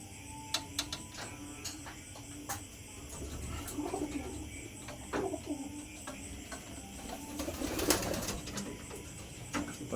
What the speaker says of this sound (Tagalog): Ito naman, bagong project, bagong ibon, Benito Goke